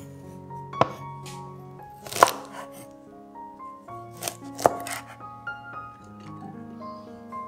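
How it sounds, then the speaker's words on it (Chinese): A knife chops washed long beans into even lengths on a cutting board: a few sharp, separate chops spaced irregularly, close and fairly quiet, with soft handling noises between them. "长豆洗干净后，切成长短一致的段"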